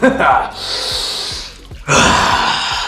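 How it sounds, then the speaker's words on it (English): Heavy rhythmic breathing during a morning cold plunge, loud and close: a sharp gasping inhale, a long steady breath out, then another strong breath, with no words spoken. "Let's get the breath going"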